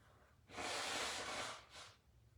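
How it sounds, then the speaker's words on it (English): A single forceful nose blow, a broad breathy blast lasting about a second, followed by a shorter second puff, close and fairly loud. "blow my nose."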